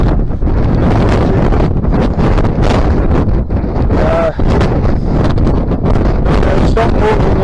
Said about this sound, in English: The wind making it a lot harder.